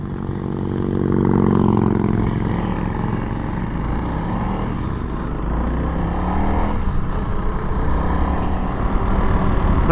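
A motorcycle on a southwest Missouri road passes by, its engine note swelling to a loud rumble around the two-second mark, then fading into steady road and wind noise, with no talking.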